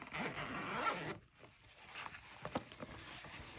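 The zipper on a padded kids' iPad travel sling bag is drawn along in a quick, close rasping pull, followed by a few soft taps and rustles.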